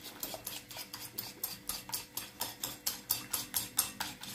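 A mixture with water is whisked briskly in a bowl, producing a steady run of about fifteen rhythmic clicking strokes at close range, with no talk.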